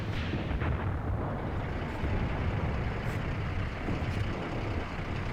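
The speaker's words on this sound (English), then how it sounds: "So he's actually now actively firing at our assault guns." Distant artillery and gunfire rumble in a Graviteam Tactics battle as enemy guns fire on assault guns, a dense continuous low roar with a few muffled thumps and no clear individual shots.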